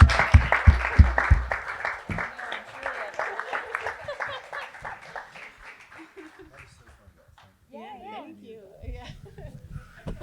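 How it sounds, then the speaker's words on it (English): An audience applauds a panel at the close of a discussion on covering immigration. The clapping is dense and loud at first, then thins and fades out over several seconds, followed by a brief voice. "Can you give a round of applause to the amazing panel?"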